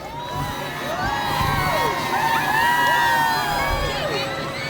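Outdoor crowd at a hometown holiday parade in Plymouth cheering and whooping, with children's shouts rising over a steady wash of applause and babble that swells and holds throughout.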